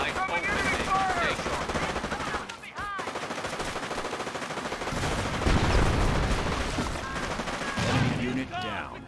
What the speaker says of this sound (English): Incoming enemy fire!